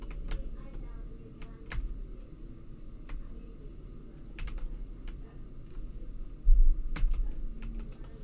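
Keystrokes clatter in irregular bursts on a broken computer keyboard during online gameplay, sharp clicks scattered over a steady low hum, with a brief thump near the end.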